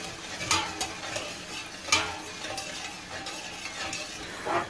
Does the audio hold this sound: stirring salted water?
yes